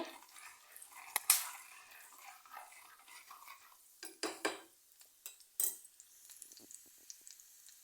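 Cluster beans masala rice being stirred in oil over a low flame, with a spoon clinking and scraping against the pan in irregular bursts over a quiet, faint background.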